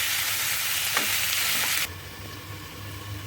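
Turnips and peas being stirred in a hot pan, a loud sizzle with scraping stirs that cuts abruptly to a quieter low simmer partway through, no voices.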